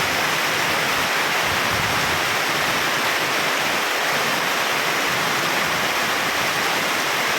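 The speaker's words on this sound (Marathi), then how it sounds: "तुफानी पाऊस चालू आहे लाईव्ह" Heavy rain in the Dhoki area pours down in a dense, steady roar of broadband hiss, loud and unbroken from start to finish with no voices.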